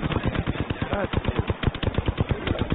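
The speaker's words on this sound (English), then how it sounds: "enemy is shooting at me. I'm taking fire." Rapid automatic gunfire from enemies in the shooter game Apex Legends, a dense, loud, fast rhythmic stream of shots that runs unbroken throughout.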